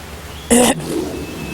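A storyteller's lion clears its throat with a short, loud, gruff rasp about half a second long, standing out clearly against quiet room tone, likely voiced by the narrator imitating the animal.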